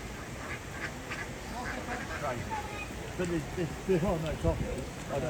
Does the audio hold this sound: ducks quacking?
yes